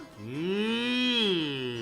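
A single long cow moo, loud and close, swelling and fading over about two seconds as a sound effect played on a live Guarani-language radio show, heard alone without talk.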